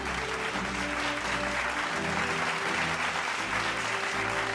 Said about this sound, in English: Let's give him our big round of applause